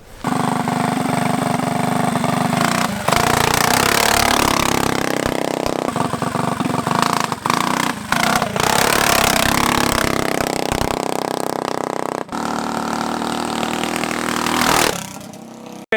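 A race bike motorcycle engine roars loud and close while riding at night, revving up and down through gear changes with brief drops in throttle, then a final rev before cutting off.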